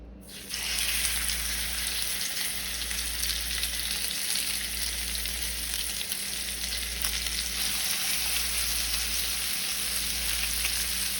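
Salmon fillets sizzle steadily top side down in browned butter, a loud, constant frying hiss close up in the pan with no one talking.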